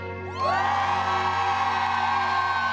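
A group of women on a trek in Merzouga, Morocco, bursts into loud, sustained cheering and joyful shouting that rises suddenly and holds steady, close and dense like a crowd.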